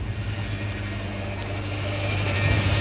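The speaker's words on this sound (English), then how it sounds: "Alright, so we definitely have some belt noise." An idling auction car gives off a steady engine drone with a faint whine from the belt, continuous and close with the bonnet open, and no talk.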